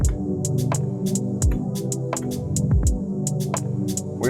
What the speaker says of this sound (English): So let's actually get maybe like a synth pad. So let's record that in.